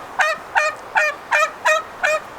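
Geese or ducks honking in a backyard pen, six evenly spaced nasal calls in a steady rhythm, close and clear with no talking.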